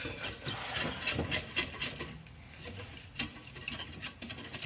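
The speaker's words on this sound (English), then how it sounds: "same amount, physically speaking, of flour and butter. I think it looks like the same amount, and I'm gonna mix it" Flour and butter stirred together in a pan for a Japanese curry roux, giving soft scraping and patter in uneven strokes, close and fairly quiet, with a brief lull midway and no voices.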